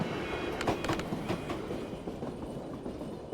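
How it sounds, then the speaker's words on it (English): A southbound militia supply train in the video game Tactical Breach Wizards rolls past with a steady rumble, punctuated early by a quick run of clacking wheel beats and faint metallic squeal. "Militia supply train."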